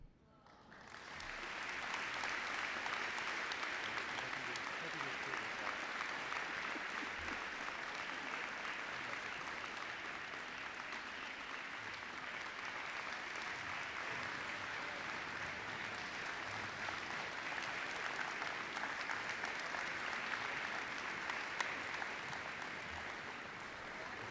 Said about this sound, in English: let's give a round of applause for our student Soaring Eagle Award recipients